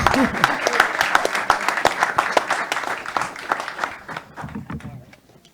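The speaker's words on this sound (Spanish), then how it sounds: "un aplauso también para Guille" A room applauds for Guille after an agricultural market talk, with dense, steady clapping and some voices mixed in that thins and fades away near the end.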